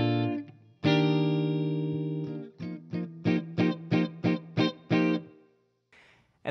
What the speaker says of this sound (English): there is one other section that sort of is a little segue or a little interlude progression in between